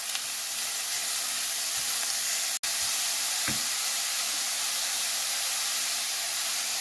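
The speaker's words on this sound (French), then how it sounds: "on va mettre la courgette et la carotte râpée et on mélange" Grated carrot and courgette sizzle with browned onions in a hot pan, a steady bright hiss with one sharp click and a soft knock partway through.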